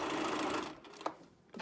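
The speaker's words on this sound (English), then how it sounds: "just put it right up against the mask and sew 1/4 inch" A sewing machine runs a continuous stitching burst along a fabric mask seam for under a second, followed by a couple of small clicks.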